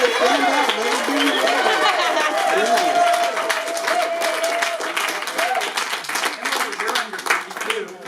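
An audience at a Magic Fest gathering claps steadily for several seconds, a dense close patter of many hands mixed with crowd chatter and a few voices.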